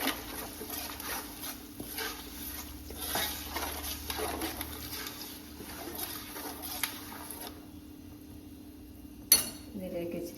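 A spoon stirs fenugreek powder and asafoetida into bitter gourd pickle, producing soft, irregular scraping and clinks against the pan at low volume over a faint background hum.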